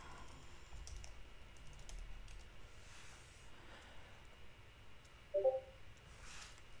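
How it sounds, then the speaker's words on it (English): Someone types a command on a computer keyboard: faint, scattered key clicks under steady background hiss, with one slightly louder burst of keystrokes near the end. "if I type in ifconfig"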